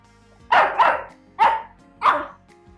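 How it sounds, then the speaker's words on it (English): A schnauzer puppy barks three times at close range, sharp and high-pitched, each bark spaced about half a second apart. "she is a schnauzer. She's going to be barking."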